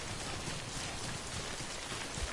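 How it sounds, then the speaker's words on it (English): Steady, dense rain in the video game Death Stranding hisses evenly and loudly throughout, with no pauses or other sounds standing out. "Since it's raining."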